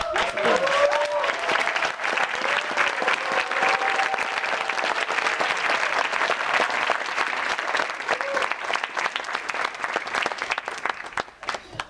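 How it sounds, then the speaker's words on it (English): Sustained applause from a graduation audience honoring standing faculty members at a Teachers College, Columbia University first-generation diversity ceremony, dense steady clapping for about twelve seconds before tapering off at the end. "so we can give you all a round of applause for it"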